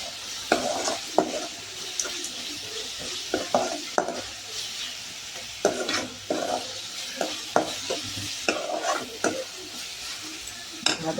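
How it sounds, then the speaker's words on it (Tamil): Chicken gravy base sautéing in oil with turmeric in a pan, a steady sizzle broken by repeated scraping stirs of a spoon against the metal, close and fairly loud with no voices. "நல்லா வதங்கட்டும்."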